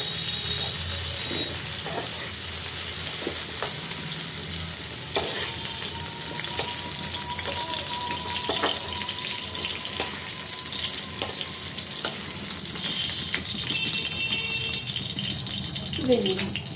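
Potatoes fry lightly in hot oil in a pan for potol chingri, giving a steady, close sizzle with a few scattered utensil clinks and taps.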